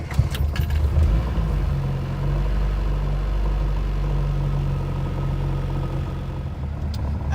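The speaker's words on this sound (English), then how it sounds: "As the cold-natured Little Mini begins to warm up, the idle smooths out" A cold Mini's engine catches with a brief crank and settles into a loud, close, low rumbling idle that stays steady and slightly uneven, with no one talking.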